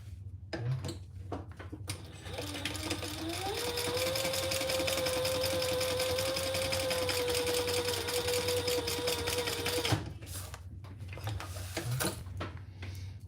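A sewing machine runs a steady line of stitching down the center of a small sewn organizer with card slots, a continuous whirring hum lasting several seconds, bracketed by short clicks and handling noises before and after.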